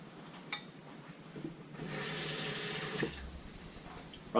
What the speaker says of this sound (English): So I'm going to add just a little bit of water